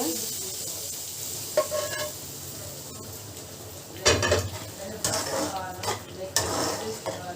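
Crispy fried potatoes being stirred into a palak spinach gravy in a pan on a stove that is switched off, with scraping and clattering of a utensil against the pan in irregular bursts and a faint sizzle.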